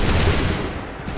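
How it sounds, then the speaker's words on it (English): A volley of musket gunfire in Assassin's Creed 3, a dense, loud burst of overlapping shots that rumbles and fades within about a second. "Wait for the signal. Fire!"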